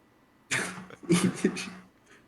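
A single short sneeze bursts out in a quiet room, followed by a brief, softer second burst, with no talk alongside it.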